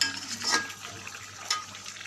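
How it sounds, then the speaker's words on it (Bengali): Chicken curry is stirred in a pan, with steady scraping strokes over a soft background sizzle and two louder stirring bursts. "এই যে আমরা এখন নেড়ে চলে নিচ্ছি একটুখানি আবার"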